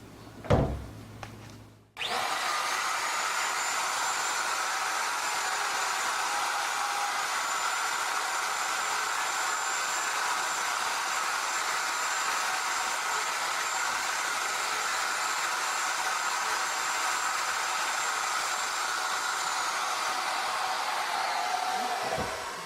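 A router cuts a mortise for an induction cooktop fixture, starting with a short burst and then running as one steady, loud, continuous whine with a high tone that holds for about twenty seconds before stopping.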